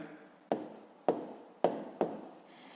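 Numbers written on paper during a long-multiplication exercise: four distinct, evenly spaced pen strokes, each a sharp scratch that fades quickly, close and quiet.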